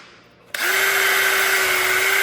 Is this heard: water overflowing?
no